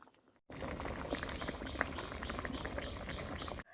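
A pan of vegetable curry with drumstick stalks and eggs simmers, giving a dense, steady bubbling and popping close up, starting and stopping abruptly.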